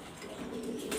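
Grizzle racer pigeons coo in a short, steady low murmur that holds at an even level with no voices.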